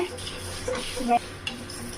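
Coriander, dried red chillies, cinnamon, cloves and cardamom dry-roast in a pan over a low flame, giving a short, soft patch of stirring and scraping with faint light crackle.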